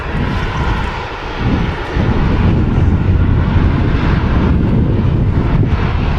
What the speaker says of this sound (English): Etihad 787-10 Dreamliner.